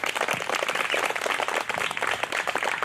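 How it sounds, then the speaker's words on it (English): An audience applauds pageant contestants at the 2020 Miss Dinuba Pageant: a steady, dense wash of many hands clapping at once, fairly soft and even throughout, with no voices on top. "Let's give all of our contestants another round of applause."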